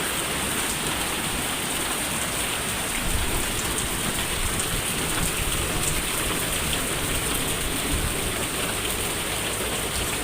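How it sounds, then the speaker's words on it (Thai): Steady, dense downpour of heavy rain hissing continuously beside a house in Thailand across the whole stretch, with a faint low rumble underneath and no voices. "ตอนนี้ผมก็อยู่ข้างบ้านครับ แต่ว่าฝนตกหนักครับ"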